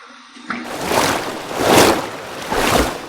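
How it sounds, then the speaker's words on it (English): Cold tap water runs to rinse a Weidi three-piece safety razor, rising in three close, rushing surges of splashing flow, with no talking. "There's the cold water. Cold water rinse."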